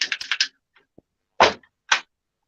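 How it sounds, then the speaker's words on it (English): Keyboard typing picked up through a microphone on a voice call, a quick burst of clacking keystrokes followed by a few isolated, sharp taps with silence between them. "who the fuck is typing on the typewriter, the 1980 typewriter?"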